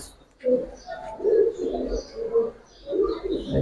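Two pigeons of a good bloodline, Giribaz colouring breed, coo in soft low bursts at close range, mixed with faint chirps while someone talks over them.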